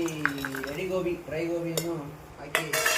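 Dry gobi, fried cauliflower, is tipped into a pan, with metal utensils clinking and scraping against the cookware at close range while a person talks over it.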